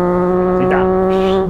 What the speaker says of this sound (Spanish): Este es el sonido de esta Triumph, la Speed Triple RS.